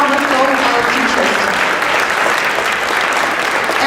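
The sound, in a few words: audience applause for teachers at a piano concert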